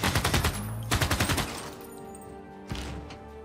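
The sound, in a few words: machine gun fire in video game Civilization VI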